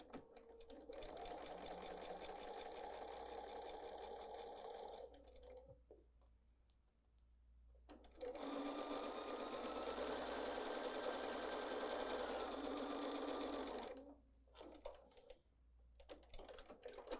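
A sewing machine stitches a quarter-inch seam on a maple leaf quilt block: two long bursts of rapid, even mechanical whirring, close and clear, separated by a short pause with faint clicks after.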